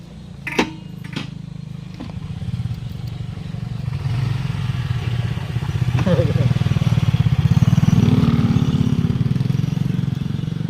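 A motorcycle engine rumbles and grows louder as it approaches and passes close by, with a few sharp clicks early on.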